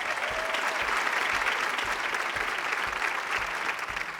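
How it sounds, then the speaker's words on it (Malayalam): A studio audience at a Malayalam TV game show claps in loud, sustained applause from many hands, steady and close for the whole stretch. "നല്ലൊരു കൈയടി കൊടുത്തേ."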